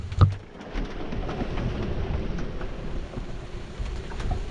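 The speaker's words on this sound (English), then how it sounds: "Proper bit of rain going on out there." Rain drums steadily on a Contessa 26 sailboat during an Atlantic storm, a dense close hiss and patter with a brief low thump at the start, no voices.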